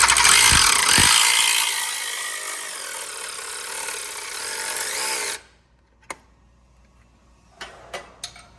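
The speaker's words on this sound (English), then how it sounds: "And then a wrench on the first bolt here." Someone uses a wrench to tighten the bolts on an X2 rubber track. A loud, sustained mechanical whir runs for about five seconds, then gives way to a few separate sharp clicks.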